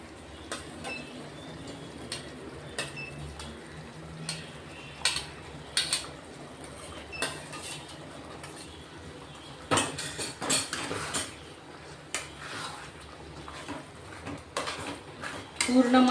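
Matki sprouts stirred in masala in a pan, with a series of clinks and scrapes of a spoon against metal at an uneven pace.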